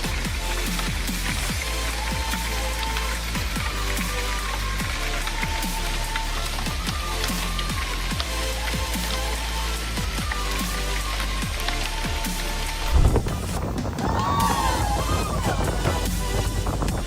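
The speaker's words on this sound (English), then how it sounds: "Thunderstorms in Sioux Falls, United States, brought large-sized hail, creating a very unstable weather situation." Large hail from a thunderstorm in Sioux Falls, United States, pelts surfaces in a dense, continuous clatter of hard impacts, loud and close; near the end the pattern shifts with a sudden knock and a rougher, wind-blown wash.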